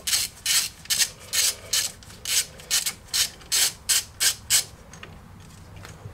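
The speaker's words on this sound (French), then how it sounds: "Et il faudra enlever cette petite vis de 8. Avec bien sûr une douille de 10." A ratchet with a 10 mm socket backs out a small screw on a Peugeot 407/508 or Citroën C5 front axle, making about a dozen rhythmic, close rasping clicks that stop near the end.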